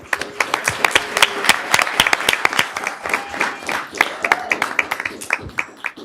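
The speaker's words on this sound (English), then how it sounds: "Please give a round of applause for Ms." A round of applause at a Sacramento City Unified School District board meeting: many hands clapping in a steady, moderately loud patter that lasts several seconds without talk.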